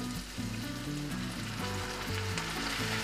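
Water poured into a pan of onions cooking for a light minced-meat quiche, producing a close, steady sizzle and bubbling hiss over a low, wavering hum.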